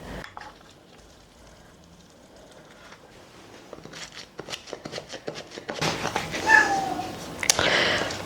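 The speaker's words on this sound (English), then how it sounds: "My cat is wondering where Daddy is and why he's not being fed." A hungry house cat meows in a kitchen, its calls rising over quiet rustling and handling noises that grow busier and louder toward the end.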